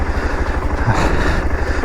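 A motorcycle engine drones loud and steady while riding, a low pulsing rumble mixed with rushing wind noise that stays constant and close throughout.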